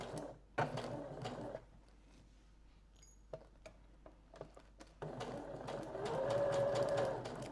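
Sewing machine on a straight stitch sewing darts 7 mm from the edge, heard as a quiet hum with light clicks and a louder, steadier run of stitching near the end.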